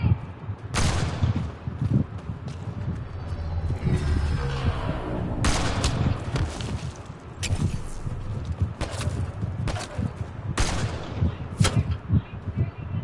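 Gunfire in the Mass Effect Andromeda video game: loud, sharp shots crack out in irregular bursts over about thirteen seconds against a steady rumbling combat background, with no talk.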